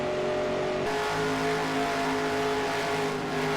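Race cars roaring around Langhorne Speedway in a 1953-era stock car racing video game, a dense, steady engine drone with a shift in pitch partway through as cars pass, loud and continuous with no talk.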